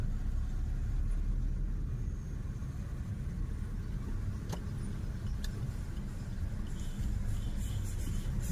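Steady low rumble of a car moving along a road from inside, continuous engine and road noise with a couple of faint clicks.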